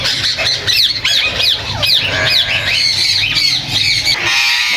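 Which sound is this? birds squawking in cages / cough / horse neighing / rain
birds squawking in cages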